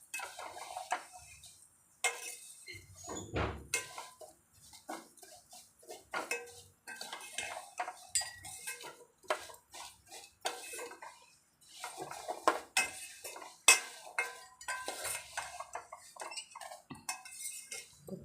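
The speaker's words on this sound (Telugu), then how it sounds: "ఒక్క నిమిషం అట్లా ఫ్రై చేసుకుందాం" A spoon or spatula scrapes and clinks against a pan, close and intermittent, while vermicelli is stirred and fried.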